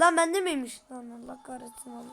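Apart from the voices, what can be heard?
No distinct noise like a dog, phone or traffic.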